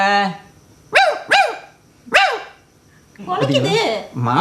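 A dog barks several times in short sharp bursts, loud and close, with a voice talking in between.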